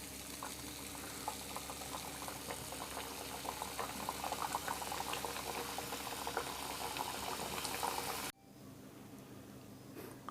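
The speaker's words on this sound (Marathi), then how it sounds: "अशाच प्रकारे आता आपल्याला बाकीच्या सर्व पुऱ्या तळून घ्यायच्या आहेत" Puris deep-frying in hot oil give a steady, dense bubbling close by that runs unbroken, then cuts off abruptly near the end, leaving quieter background; no one speaks.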